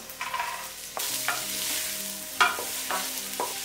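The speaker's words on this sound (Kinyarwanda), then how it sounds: "tugiye gukaranga wa muceri wacu" Fried rice with vegetables sizzles and crackles in a hot pan while a utensil stirs and scrapes, with a few louder clanks of tossing; no one speaks.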